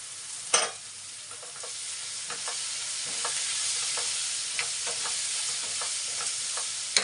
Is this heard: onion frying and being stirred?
yes